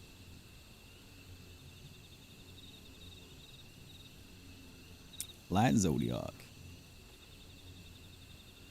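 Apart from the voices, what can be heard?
crickets chirping in ambient sound, from Final Fantasy XIV video game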